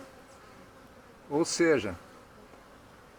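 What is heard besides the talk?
honeybees entering the hive with nectar and pollen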